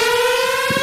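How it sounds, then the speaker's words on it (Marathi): Steady civil-defence-style siren wailing as a single continuous tone with rich harmonics, loud and close, filling the whole short stretch, with a brief faint low thump near the end. "आला सायरनचा आवाज."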